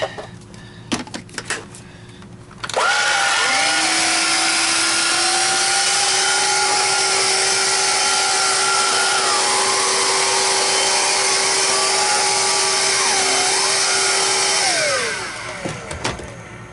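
A budget cordless pet vacuum cleaner switches on after a few clicks and runs at a steady high-pitched whine for about twelve seconds, close and loud, then winds down.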